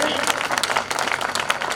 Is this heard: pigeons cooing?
no